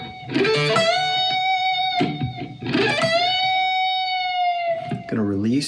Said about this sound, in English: I'm going to bend the E until it sounds like this